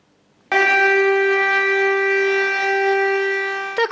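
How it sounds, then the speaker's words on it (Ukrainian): A civil defense siren on a school rooftop wails loudly on one sustained, steady tone, starting abruptly after a brief quiet and holding for several seconds. "подавала свій голос сирена на даху першої гімназії"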